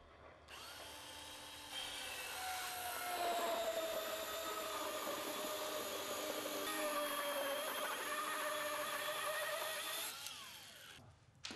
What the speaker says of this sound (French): nous utilisons une carrelette manuelle radiale motorisée à eau, ceci évitant que l'asphalte ne se colmate sur le disque